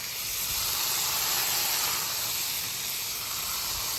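A smash burger with Havarti cheese spits and splatters on a hot griddle, giving a steady, loud broadband hiss that runs unbroken with no voices.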